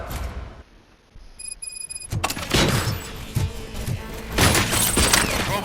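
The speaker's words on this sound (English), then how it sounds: "Gunshots?" Gunfire erupts in Robocop: Rogue City on PlayStation 5 after a quiet lull, a rapid series of sharp cracks and thuds mixed with game ambience and faint voices.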